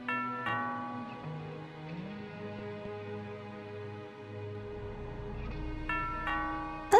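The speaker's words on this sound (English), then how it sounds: "That sounds like the doorbell." Electronic doorbell chimes from the video game Thimbleweed Park ring a few times over a soft synthetic background, with tones striking at the start and again near the end.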